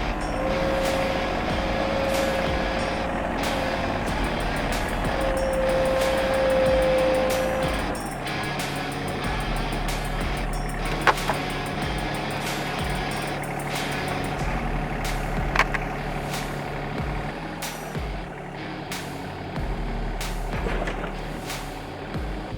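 Bad Boy 1025 tractor mower driving slowly over its mower deck, a steady low engine drone with a whining tone early on, occasional clunks and creaks from the machine, no talking.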